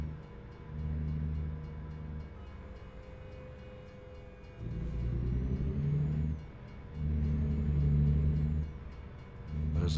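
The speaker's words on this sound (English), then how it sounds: "There's a train coming somewhere" Rumbling train in American Truck Simulator, heard as repeated low rumbling bursts that rise and fall in loudness, steady and fairly close, with no talking over it.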